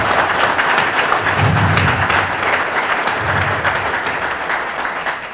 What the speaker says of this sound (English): Let's give them a big applause as a whole.